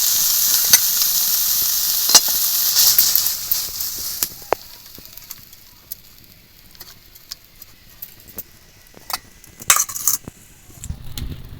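Food sizzles in hot oil in a kadai while a spoon scrapes and stirs the pan in quick, uneven strokes, with no talking.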